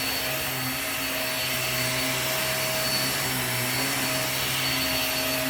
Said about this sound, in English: This is one of my favorite vacuums.